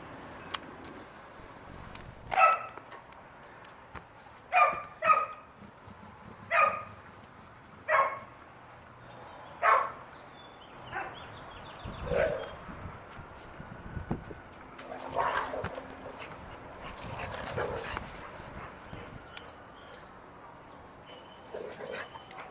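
A rescued Boxer dog lets out a series of sharp barks and yips spaced a second or two apart, fairly close, followed by softer scuffling and whimpering noises from play.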